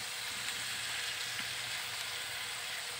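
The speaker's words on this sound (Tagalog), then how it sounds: "Lagay na natin itong ating nilutong itlog kanina." A steady hiss of frying in a pan of bitter gourd as cooked egg is added, constant and close with no talking.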